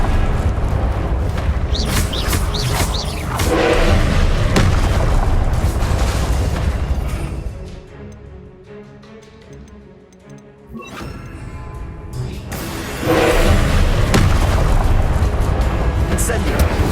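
Confringo blasting spell explosions in Hogwarts Legacy on PS5: loud bursts and crashing impacts in dense combat, fading to a quieter lull with ticking before heavy blasts return, and a voice speaking over parts of it.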